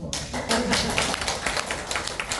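An audience at a medical school seminar claps, giving a dense, loud burst of overlapping claps that carries on steadily for a couple of seconds.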